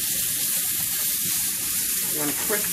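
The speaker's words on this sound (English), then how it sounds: "We're going to fry this up." Roughly chopped bacon fries in a pan with a steady, close, dense sizzle that holds throughout, and a faint voice can be heard near the end.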